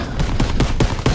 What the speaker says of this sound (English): that's fireworks in the background. There's fireworks near me. Very near me.